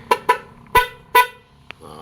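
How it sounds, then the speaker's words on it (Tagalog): Newly installed loud aftermarket horn on a motorbike gives four short sharp blasts in quick succession, close and loud, followed by a faint click. "na-install na natin yung busina natin."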